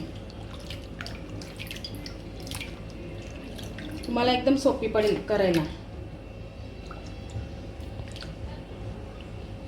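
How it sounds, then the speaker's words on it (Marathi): Cut potato fries are rinsed in cold water, with soft drips, squishes and sloshing throughout while someone talks over it. "अजून एकदा पाणी घ्यायचं आपल्याला साफ स्वच्छ धुवून घ्यायचे थंडच पाणी आहे"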